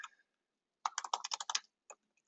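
Quick bursts of typing on a computer keyboard, a rapid cluster of close, crisp key clicks followed by a couple of isolated taps in an otherwise quiet room.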